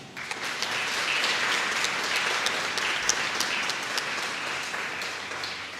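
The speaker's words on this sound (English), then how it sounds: "Please applaud" Sustained applause from a graduation ceremony audience at St Jago High School, a dense even crowd of clapping hands at moderate distance, steady throughout with no talk on top.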